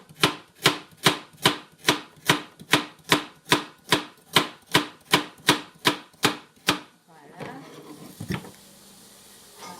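Carrots being chopped with a knife on a board, giving about fifteen sharp, evenly spaced chops in a brisk rhythm, followed by softer scraping and handling sounds.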